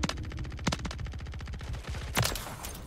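Rapid bursts of HRM9 submachine gun fire in Call of Duty: Modern Warfare III, evenly spaced shots in quick runs broken by brief pauses, with a few heavier impacts, fairly quiet overall.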